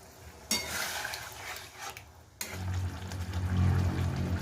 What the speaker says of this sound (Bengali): একটু জল দিয়ে দিচ্ছি, ওই সসের বাটি ধোয়া জল